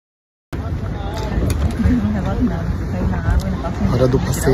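After a short silence, a speedboat's engine drones with rushing wind buffeting the microphone off Maragogi, Brazil, and voices can be heard over the noise.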